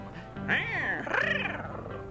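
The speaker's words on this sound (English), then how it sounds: "Oh my god, that was very kitty cat like." A character in the video game The Low Road lets out a cat-like growl, a rising and falling meowing voice lasting under two seconds over faint background music.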